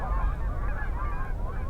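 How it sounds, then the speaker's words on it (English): A large flock of snow geese at McGregor honks continuously, many overlapping nasal calls forming a constant noisy chorus. "No, I came for the snow geese."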